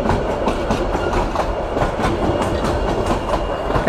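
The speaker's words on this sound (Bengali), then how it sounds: "আগে রেগুলার, আমি আসলে গেলে ট্রেনের সাথে দেখা হইতো, আজকে অনেকদিন পর পাইলাম" A train passes close by, loud and continuous, with rhythmic clickety-clack of wheels over rail joints throughout.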